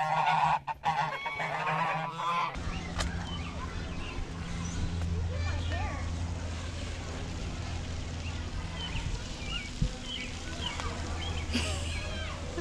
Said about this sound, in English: Where are all the goose?